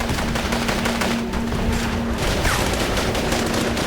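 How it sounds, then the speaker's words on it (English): Sustained firefight gunfire from al-Qaeda fighters returning fire, a dense continuous crackle of rapid shots with no clear pauses, loud and steady throughout without speech. "But al-Qaeda fighters continue to return fire."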